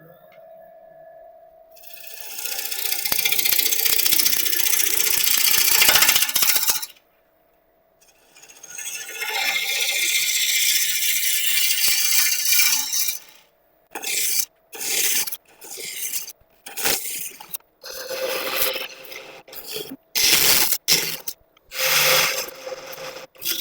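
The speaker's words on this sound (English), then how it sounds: "initially turning at about 900 RPM, 3/8 inch bowl gouge and face shield on" A wood lathe spins at about 900 RPM while a 3/8 inch bowl gouge cuts a bowl, giving long scraping, hissing passes that stop abruptly, then shorter choppy cuts broken by brief silences, close and loud.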